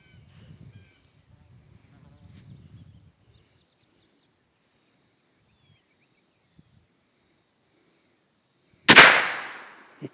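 A single loud shotgun blast fired at a pipe with an old shotgun rings out near the end, after quiet low voices and a long pause, followed by a short decaying tail.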